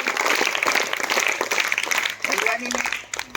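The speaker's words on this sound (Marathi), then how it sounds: "थोड्या टाळ्या वाजवा" Applause for a seventh-grade student during a school health check-up event, a room of children clapping steadily for a few seconds with voices mixed in before it dies away.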